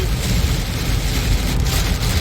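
Dense, steady cloudburst rain pours down in the USA with a constant hiss and low rumble, close and loud, with no voices.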